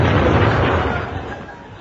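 A cartoonish explosion sound effect bursts in loud and full at once, then rumbles and fades away over about two seconds, heard alone.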